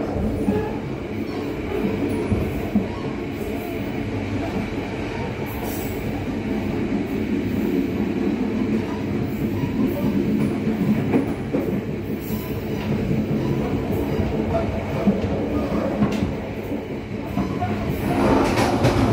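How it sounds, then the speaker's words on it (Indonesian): Argo Merbabu passenger train running on rails from Jakarta toward Semarang, heard from inside as a steady rumbling roll with rhythmic wheel clatter and occasional squeals, the train slowing. "Tadi keretanya tiba-tiba melambat."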